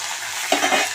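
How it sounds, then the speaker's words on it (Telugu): Dried red chillies and curry leaves fry in hot oil for a coconut chutney tempering, a steady close sizzle that swells with a burst of crackling and stirring midway, no voices. "చూడండి, ఎండుమిర్చి కాలుతుంది"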